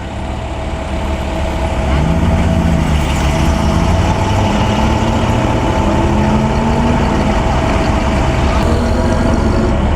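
A vintage Packard at the 2011 Pebble Beach Concours rumbles past with a low, throaty engine note that rises and holds steady nearby, under crowd murmur and faint talk.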